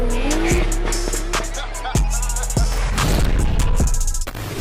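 A stage 2 tuned 402bhp Seat Leon Cupra accelerates hard with a loud, close engine roar, repeated sharp pops and bangs between gear changes, and a brief squeal of tyres.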